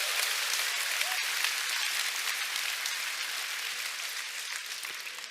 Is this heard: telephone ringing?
no